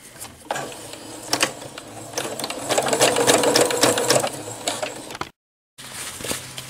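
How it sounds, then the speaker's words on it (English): Sewing machine running a straight stitch along a zipper ridge while sewing a wet/dry bag, a steady close mechanical whir with rapid needle clatter, speeding up in the middle before a brief cut and a short restart. "you're just going to straight stitch along with that zipper ridge"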